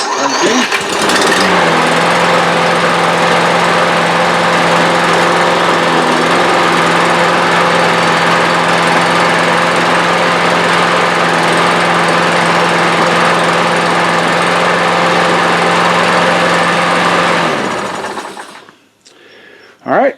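A walk-behind lawn mower engine with a freshly cleaned carburetor starts up and runs loud and steady close by for about seventeen seconds, then cuts off abruptly.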